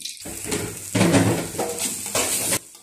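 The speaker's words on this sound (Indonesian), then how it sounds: "Tuangkan sedikit minyak untuk menggoreng bumbunya. Jadi bumbunya digoreng terlebih dahulu supaya nanti kuahnya menjadi sedap" Spice paste with lemongrass frying in oil for a fish soup, bursts of sizzling and stirring with clattering pan and utensil scrapes in several distinct surges, close and fairly loud.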